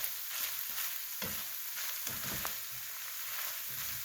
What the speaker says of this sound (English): Let this cook for a minute.